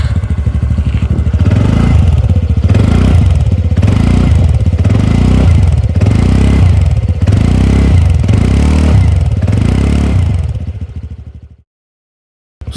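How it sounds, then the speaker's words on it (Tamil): A 2020 TVS Ntorq 125 Race Edition BS6 scooter's exhaust, heard up close as a loud, steady idle with repeated throttle blips that rise and fall in a regular rhythm before cutting off abruptly near the end. "இப்போ ஸ்கூட்டரோட எக்ஸாஸ்ட் சவுண்ட் கேட்கலாம்."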